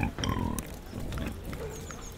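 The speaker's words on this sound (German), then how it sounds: "Schweine" Pigs grunting and snuffling close by in a short burst with a brief squeal, followed by softer rustling and faint murmurs, set against a busy farmyard background.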